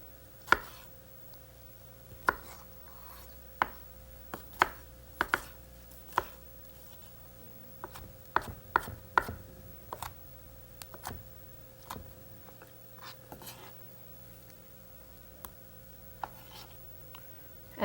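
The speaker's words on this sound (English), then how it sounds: "We're going to take our half a tomato, cut the tip off, and again, just chunk it up." A knife chops half a tomato into chunks on a board, giving sharp irregular taps, some single and some in quick bursts, close and fairly quiet with no talk.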